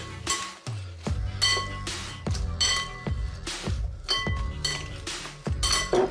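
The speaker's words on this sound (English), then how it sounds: "some good quality oil, give that a mix" Squid and peas being stirred together with oil in a dish, giving a series of sharp clinks and scrapes of a utensil against the bowl, repeated in an uneven rhythm close up, with no talking.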